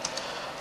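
Typing on a computer keyboard for a command install on Ubuntu, a few soft, close key clicks at a quiet level.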